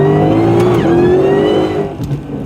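A car makes a hard rolling launch at 4,500 rpm, its engine revving loud and close, then the pitch rises as it accelerates away. The sound fades slightly near the end, and there is no talking.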